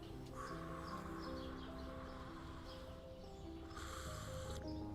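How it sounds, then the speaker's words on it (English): Several birds call in the morning, with a hoarse crow-like caw and a few higher chirps over a steady background hum, fairly faint and with no talking. "Ah, the sounds of morning. Early in the morning, Birds singing."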